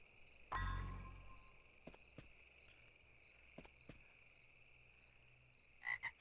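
A frog croaks in a video game with one loud, close, throaty croak near the start. Scattered faint clicks follow, then a brief pair of softer sounds at the end.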